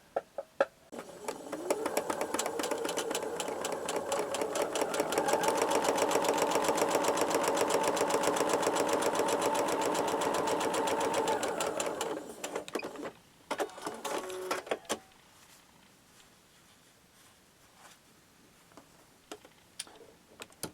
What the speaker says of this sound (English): I'm going to put it in the sewing machine, and I'm going to sew 1/4 inch away